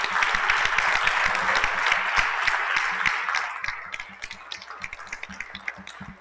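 Applause from an audience at an acting experiences event, a full round of clapping that fades after a few seconds into sparse, distinct individual claps.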